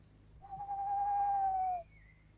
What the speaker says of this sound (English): That blessed owl.